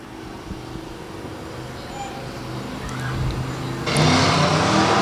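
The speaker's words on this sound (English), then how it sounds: "And he hits the throttle." A dirt track race car at Electric City Speedway in Butler, Missouri rumbles along, then the engine note jumps sharply louder as the throttle opens, heard from a distance amid a broad crowd and track din.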